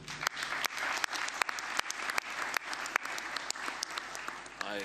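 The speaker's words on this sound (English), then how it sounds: "Can we please clap hands for him?" A crowd at the CAF 46th Ordinary General Assembly claps, a dense, continuous burst of hands with sharper individual claps standing out, lasting the whole stretch.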